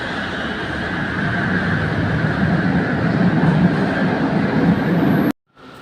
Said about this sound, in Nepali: ट्रेन आयो, फाइनली ट्रेन आउँदैछ।